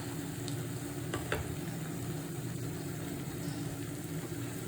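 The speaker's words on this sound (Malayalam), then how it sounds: "എന്നിട്ട് നമുക്കൊന്ന് ഇളക്കി റോസ്റ്റ് ചെയ്തെടുക്കാം" Spiced duck egg mixture stirred and roasted in a pan, giving a steady close sizzle with a few brief scraping clicks of the spoon, no voices.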